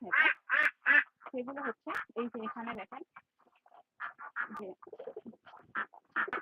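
Ducks on a duck farm quacking close by in fairly quiet surroundings, a loose run of repeated nasal quacks in short bursts with brief pauses between, some overlapping.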